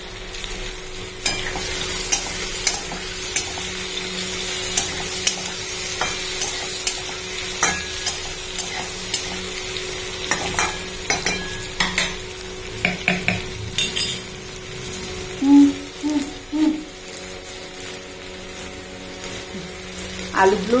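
Parboiled potatoes fry and sizzle in a pan with spices, stirred now and then with clinks of a utensil against the pan; steady close sizzle throughout, with no talk.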